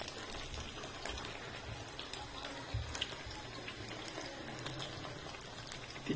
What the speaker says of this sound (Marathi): छान आपलं बारीक गॅसवरच भाजून घ्यायचं.